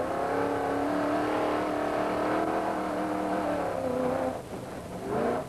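An off-road race truck engine at the 1996 SCORE Baja 500 revs hard and loud, pitch climbing and shifting through gears, with a brief drop before it surges again.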